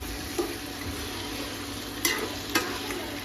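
Crab gravy simmers and sizzles in a pan, a steady close frying hiss running throughout with a few brief clinks of a spoon against the pan.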